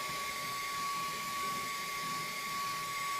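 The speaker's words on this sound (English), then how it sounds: "it does suck all that sawdust up pretty easily" A 2-in-1 air blower vacuum sucks up swept sawdust, giving a steady, loud whining motor hiss with an even airflow rush and a high tone that stays constant throughout.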